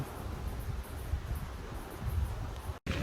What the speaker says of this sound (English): it's really windy today, as you can probably notice